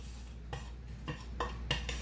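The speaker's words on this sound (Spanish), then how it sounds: "dos cucharadas de azúcar clara y lo vamos a revolver." A spoon stirring sugar and cinnamon in a bowl for a pumpkin fritter topping, close scraping strokes with a clink about every third of a second, and no talking.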